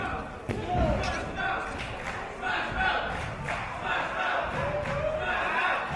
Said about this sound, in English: This crowd getting behind Smash Mouth Chris Ridgeway